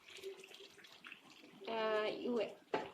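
Water is poured into a simmering sesame seed chicken curry, a brief close splashing pour lasting about a second. Soft kitchen clatter and a faint voice come before it.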